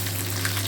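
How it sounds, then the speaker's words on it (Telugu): Dried red chillies sizzle in hot oil with garlic for tempering a ginger pickle, a brief, steady, close hiss over a low hum. "ఆ తర్వాత ఆ ఎండుమిర్చి తాలింపుకు వేసాను."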